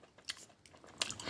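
Close, quiet biting and chewing of Sour Punch Bites candy, a few short crunchy tearing bursts in quick succession with soft mouth sounds between.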